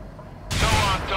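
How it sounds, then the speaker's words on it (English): TOW missile launched at a Humvee in the World in Conflict strategy game, a sudden loud whooshing blast that breaks in halfway through and roars on over a low rumble. "Now left-click on the Humvee to launch a tow missile at it."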